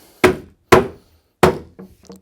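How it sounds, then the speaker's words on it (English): Three sharp wooden knocks at an even pace, then two softer taps, as a thick back panel of a Cooke & Lewis 925 corner base cabinet is driven into its groove; close and loud, with no talk. "Knock it down and tighten it up."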